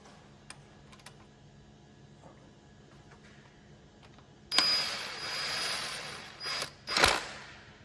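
A bolt is run in by hand-tool ratcheting into the crankshaft pulley of a Volvo V40 D2 1.6 diesel during a timing belt job: quiet taps first, then a few seconds of close ratchet clicking and a sharp metallic knock.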